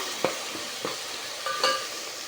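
Homemade ginger paste frying in a pan for a Kerala-style sardine curry, a soft steady sizzle with a few brief scraping stirs and clinks of a spoon against the pan, close and fairly quiet, no voices.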